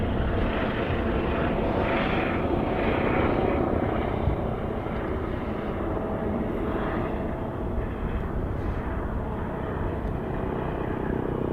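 Loud, sustained roar of an Airbus Beluga XL jet aircraft arriving at Hawarden Airport, a dense continuous rumble heard from nearby with slowly shifting intensity and no voices over it.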